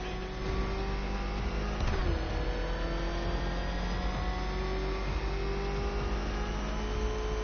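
The Batmobile's engine revs and whirs steadily, loud and continuous, with a rising, sustained drone through the Batman Arkham Knight video game scene.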